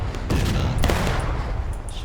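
A ragged musket volley in War of Rights during a Hagerstown fight: several loud, sharp shots crack close together over a few seconds, with echoing gunfire behind them.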